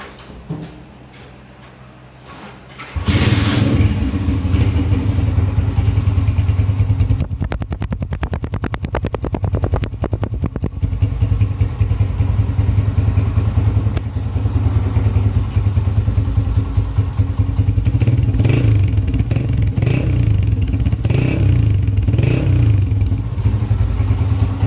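Running close up, a 2021 Honda CG 125 motorcycle engine idles with a loud, steady, slightly clattery single-cylinder thump, with small blips of throttle throughout and no talking.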